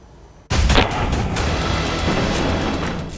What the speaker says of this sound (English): Gunfire, explosions, bombardments, incessant rain of missiles and rockets.